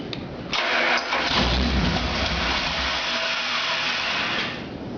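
A 383 Mopar V8 on a homemade run stand outdoors in 20-degree cold cranks and catches, then runs loud and steady close by for several seconds before cutting off near the end.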